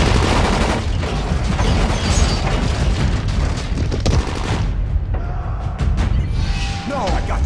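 Rapid bursts of gunfire from the first-person zombie game Dying Light, with dense shots and booms over the first several seconds, then thinning into scattered cracks and mechanical clatter, with voices shouting over the fighting.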